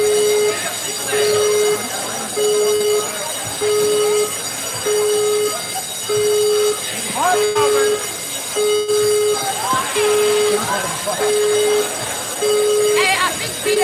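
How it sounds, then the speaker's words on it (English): A fire alarm sounds at a sports venue during a Melbourne Uni Black Angels game against the Geelong Supercats, a loud steady pulsing tone repeating about every second, with voices talking and crowd noise underneath. "BDOT, he's rung the fire alarm."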